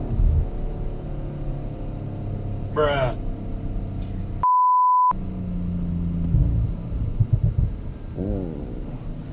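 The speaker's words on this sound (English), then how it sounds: "when you let off the throttle, you have that fantastic burble." A 2020 Audi RS 5 Sportback with the 2.9 TFSI engine burbles and rumbles deeply from the exhaust as the throttle is released. The low grumble runs steadily, interrupted by a brief electronic beep, and a voice speaks once over it.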